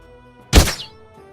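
A single shot fired at a spider in the Realms of Arkania: Star Trail role-playing game, a short heavy thunk that fades quickly, heard alone against a quiet backdrop.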